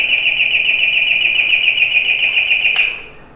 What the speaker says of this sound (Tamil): உடனே நாவும் இந்த மாதிரி வந்து அலாரம் நமக்கு அடிக்கும்.